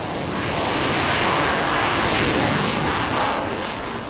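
A Eurofighter combat jet flying a manoeuvrability display at the Paris Air Show, a loud continuous broadband engine roar that swells and holds steady throughout, with no speech.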